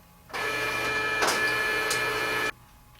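A CP Series card printer runs its cleaning cycle with a cleaning card loaded in the input hopper, giving a steady mechanical whir that starts abruptly, holds for about two seconds with a couple of brief accents, then stops.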